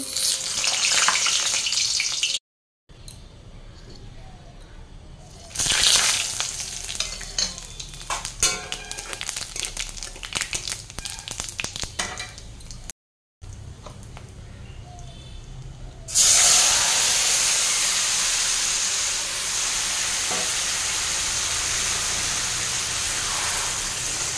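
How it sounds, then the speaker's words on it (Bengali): Potatoes frying in a pan while chicken curry is being cooked, a steady loud hiss and sizzle that runs throughout, with two brief silent gaps and a louder, brighter burst of sizzling near the end. "তো চলো আলুটা ভেজে নিই"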